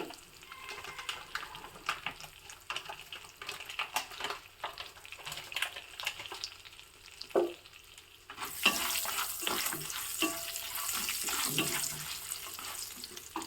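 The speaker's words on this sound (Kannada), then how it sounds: "ಒಗ್ಗರಣೆ ಆಗ್ತಾ ಇದೆ" Dry chili and cashews tempering in hot oil, a soft crackle that erupts into a louder, steady sizzle partway through, with stirring scrapes and clinks.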